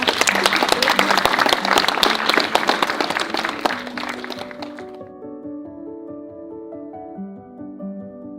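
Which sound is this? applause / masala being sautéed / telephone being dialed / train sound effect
applause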